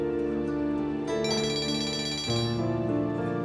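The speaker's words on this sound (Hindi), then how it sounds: "मम्मी का फोन आ रहा है" A phone ringtone plays, a steady electronic melody with shifting tones that repeats for a few seconds, moderately loud and without any voices.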